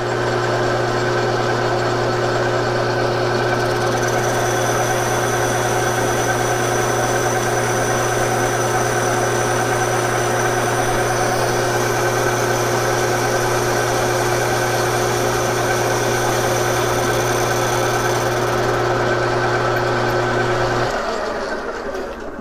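A lathe runs a free cut on a plastic part, a steady loud motor hum and whine holding unchanged for about twenty seconds before winding down at the end.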